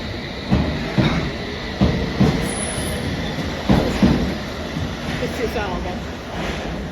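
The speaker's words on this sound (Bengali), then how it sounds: "আর ওই দেখো ট্রেন আইসি" An underground metro train rolls into a station with a loud rumble, rhythmic wheel clatter and a faint squeal of wheels on rail, as people's voices sit low in the background.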